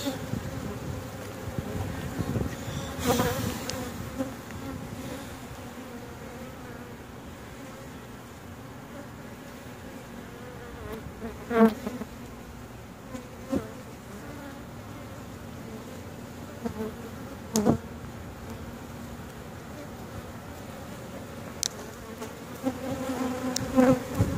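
Honeybees hum steadily around an open backyard hive, a close continuous drone with occasional louder passes as individual bees fly near.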